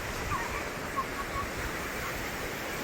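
High-tide sea waves on a beach at full moon wash in as a steady, moderately loud surf hiss, with a few slightly stronger surges but no distinct breaks and no voices.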